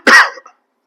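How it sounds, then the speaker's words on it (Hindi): A single man's cough, close and loud, a short harsh burst with a fading tail, then silence. "क्षमा चाहता हूँ मेरी खांसी के लिए"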